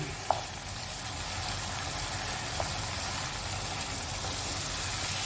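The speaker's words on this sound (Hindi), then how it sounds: "इसकी हम ज़रा थोड़ी सी करेंगे भुनाई" Taro (arbi) roasting and frying in a pan, Rajasthani style, gives a steady, fairly soft sizzle with a low background rumble and a couple of faint clicks.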